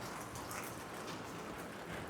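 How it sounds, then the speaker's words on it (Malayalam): Steady heavy rain falling at a beach in Varkala, a dense continuous hiss of drops with no talk, fairly quiet and even throughout. "നല്ല കിടില മഴ."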